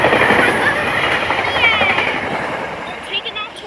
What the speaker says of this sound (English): Here we got the West train coming in.